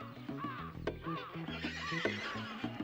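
A horse whinnies in a quick high call while hooves clip-clop beneath it, close and moderately loud, with no talking.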